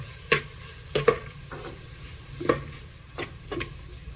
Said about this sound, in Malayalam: ഇതിലേക്ക് കരിവേപ്പിൻ്റെ ഇല മല്ലിച്ചപ്പ് പൊതിയിനിട്ട് കൊടുക്കാം അതും നല്ല മിക്സ് ചെയ്ത് കൊടുക്കാം